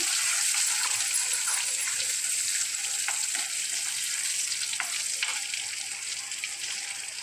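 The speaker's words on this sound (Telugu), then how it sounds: "ఇప్పుడు కొంచెం కరివేపాకు వేసుకుంటున్నాం, కర్రీ లీవ్స్." Curry leaves sizzle in cold-pressed groundnut oil while making chutney for idly, a dense, steady hissing crackle that holds fairly loud throughout.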